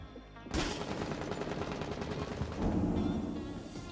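Gunfire in the video game Rainbow Six Siege: after a brief quiet lead-in, a sudden burst turns into dense, rapid, continuous shooting. It sounds somewhat distant and muffled, with no voices.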